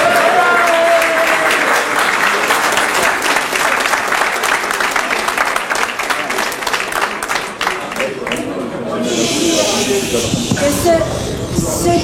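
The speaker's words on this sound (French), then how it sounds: "Applaudissez la traîtresse." Loud crowd applause at a municipal election second-round event, rapid clapping sustained for most of the clip, thinning out near the end as the room noise changes.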